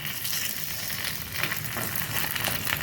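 Upvas appe sizzling in an appe pan, a steady loud crackling fry that runs throughout with a few brighter spits partway through.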